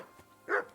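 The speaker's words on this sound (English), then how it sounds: "Jesus, Henry, that barking's driving me nuts." A single sharp bark from Henry's dog Mutt in Kingdom Come Deliverance II, short and fairly close, rising briefly out of quiet background.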